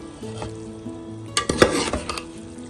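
Rice stirred into sugar syrup in a pot, a spoon scraping and clinking against the metal in a short burst of strokes after a quieter start, close and moderately loud, no talking.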